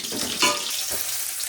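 Rohu fish frying in hot oil, a brief close crackling sizzle with a couple of splashy bursts over about a second and a half, no voices.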